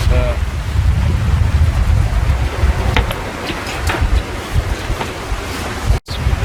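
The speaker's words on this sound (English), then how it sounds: "Blowing now, it's blowing 25 knots I think" A strong 25-knot wind roars across a sailing boat running downwind at about 8.5 knots, a loud, steady rush of wind noise mixed with waves and surf, with no talking.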